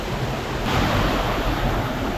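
Rushing water from a waterfall near Warakapola, Sri Lanka, makes a steady, dense roar that swells slightly partway through, with no voices.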